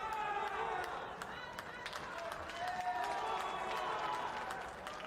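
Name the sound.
crowd cheering at a jiu-jitsu championship final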